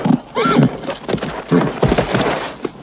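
Horse hooves clip-clop on hard ground in a Western film scene, mixed with a loud nearby neigh and whinny, lasting a few seconds with no speech.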